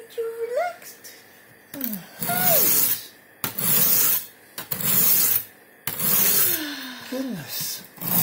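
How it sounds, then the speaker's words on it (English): A knife is sharpened with long, loud scraping strokes in bursts, each followed by a short pause, while voices and whimpering sounds come in between. "Sharpening a knife"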